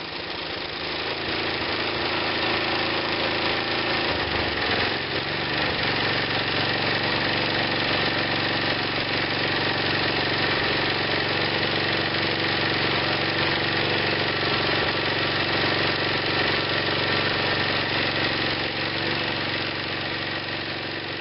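A Tecumseh 5.5 hp small engine, just repaired after a stuck valve and no compression, runs steadily with a loud, continuous chugging drone that stays even throughout, no voices over it.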